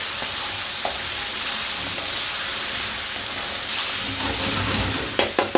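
Beef jalfrezi curry with cherry tomatoes, coriander and lime juice sizzles steadily in a hot pan, a constant bright frying hiss with soft stirring scrapes and a few utensil knocks near the end.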